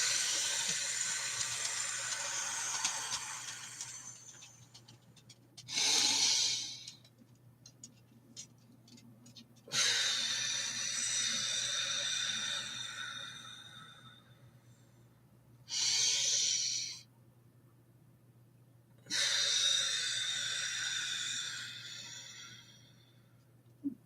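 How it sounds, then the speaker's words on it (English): A person takes slow, deep breaths, with three long airy exhalations spaced several seconds apart over a steady low hum and quiet room noise. "Let's do some deep breathing to clean out our lungs."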